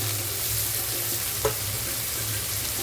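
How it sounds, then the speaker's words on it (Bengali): Onion and green chili frying in hot oil give a steady, loud sizzle with one brief utensil knock partway through. "এখন দিয়ে দেবো পেঁয়াজ আর কাঁচা লঙ্কা"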